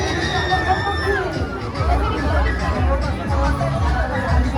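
Dense crowd noise at a busy nighttime fair, a constant babble of many voices with occasional louder shouts and a faint tonal whistle early on, close and continuous.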